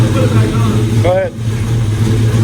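A car engine idling with a low steady hum, then revving briefly once in the middle, close by, while people talk over it.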